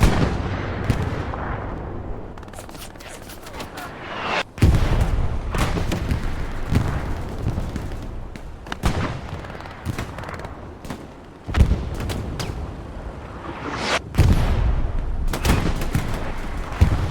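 Gunfire and heavy booms from a Hell Let Loose match using an 88 gun, with repeated loud blasts at irregular intervals, each leaving a long rumbling tail over continuous battlefield noise.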